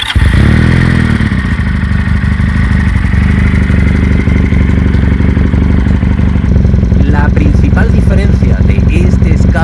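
A Leonart Pilder aftermarket exhaust on a 125 or 400 cc motorcycle idles outdoors, a loud, steady, close engine drone with a few clattering blips. A person talks over it.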